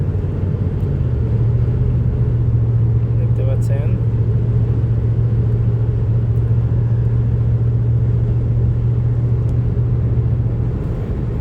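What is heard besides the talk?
car driving through strong wind and sandstorm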